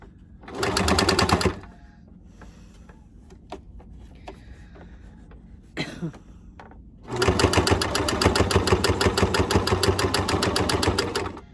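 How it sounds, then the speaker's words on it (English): A sewing machine stitches along the edge of thick fabric for a mask, in two runs of rapid rhythmic clatter, a short one and then a longer steady one, with quiet handling noises between, close and loud. "and sew along the edge. Always make sure to backstitch so that it stays secure."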